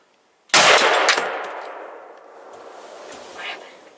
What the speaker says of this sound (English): Okay, I'm gonna shoot it.